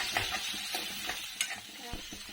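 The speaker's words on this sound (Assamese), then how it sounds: "মাংস তেলতে এতিয়া কেপচিকামখিনি ভাজি ল'বি" Capsicum sizzles in hot oil with chicken for a chicken dry fry, a steady close frying hiss broken by a few sharp stirring scrapes and clicks.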